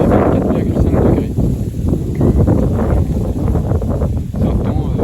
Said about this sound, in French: C'est un temps estival, mais battu par le vent. Donc très venteux.